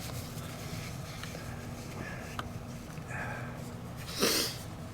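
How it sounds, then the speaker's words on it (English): A person blows their nose once with a short, sharp honking snort near the end, after several seconds of quiet room noise and faint sniffing. "I got to blow my nose."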